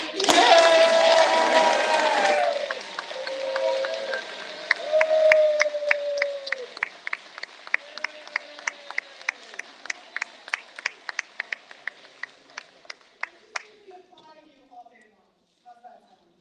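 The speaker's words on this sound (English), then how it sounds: "Can we just get a round of applause?" Audience applause at the 2022 Stony Brook University School of Communication and Journalism convocation, a loud burst of clapping that thins into scattered individual claps and fades out, with voices heard over the start.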